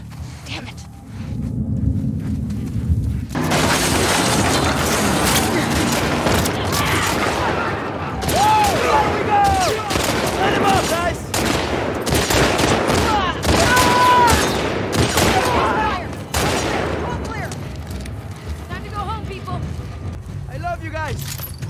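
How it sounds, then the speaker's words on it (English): Bursts of gunfire crack and rattle in The Last of Us Part II, rapid overlapping shots and loud booms packed together over roughly fifteen seconds, with voices talking in the mix before the shooting thins out. "Heard all the shooting."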